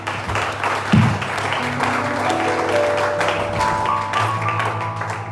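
A church congregation applauding in praise of Jesus during a French-language service, steady clapping that keeps going over sustained organ-like tones, with a heavier thump near the start.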